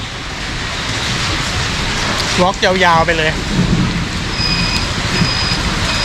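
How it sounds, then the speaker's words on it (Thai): Heavy rain and thunder along a roadside in northern Vietnam, with a steady hiss of rainfall and a low rumble throughout while someone speaks briefly in the middle. "อือหือฟ้าร้อง"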